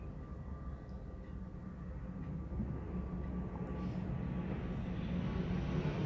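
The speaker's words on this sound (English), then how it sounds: "airplane going overhead" An airplane flies overhead, heard as a distant low rumble that slowly grows louder over several seconds, steady and without voices.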